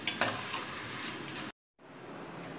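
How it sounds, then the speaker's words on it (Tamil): Jackfruit chips fry in hot oil with a steady close sizzle and a few sharper crackles early on, then the sound cuts out briefly before a quieter, even sizzle returns. "இது 1 நிமிஷம் கூட ஃப்ரை பண்ணிட்டு எடுத்துடலாம்"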